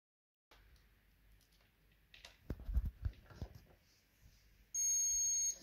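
A multimeter's continuity test sounds a steady electronic beep while checking the ground wire of a Nespresso Magimix coffee machine. The tone rings clear and sustained near the end, after some faint handling taps and clicks.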